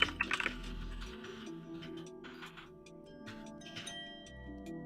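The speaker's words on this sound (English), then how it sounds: "it's a stupid mechanical keyboard" Keys clack on a mechanical keyboard in a quiet room, an irregular run of light taps with a louder flurry at the start, then scattered strokes continuing softly.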